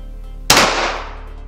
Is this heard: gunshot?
yes